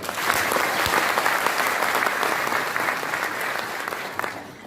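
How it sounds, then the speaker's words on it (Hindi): Sustained applause from a sizable audience at a national HDFC and CSC gathering in Delhi, loud and continuous clapping that thins slightly toward the end. "उसके लिए जोर से तालियां बजाओ।"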